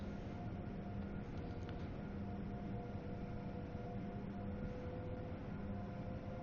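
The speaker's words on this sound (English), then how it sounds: "Might as well also listen to the train accelerate from the cab." Amtrak Acela train accelerating on the Northeast Corridor between Boston and Providence, heard from inside the cab in Train Sim World: a steady, moderately quiet rumble with faint sustained motor whine tones, continuous throughout.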